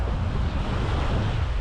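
Ocean waves on the beach at Playa Pelícanos in Playa del Carmen, heard as a steady, loud wash of surf with heavy wind rumble on the microphone throughout, no voices.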